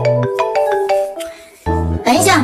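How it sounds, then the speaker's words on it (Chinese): A phone ringtone plays a short melodic jingle of rising and falling tones, loud and close, with a brief gap before another burst of notes. "等一下，我先去接个电话。"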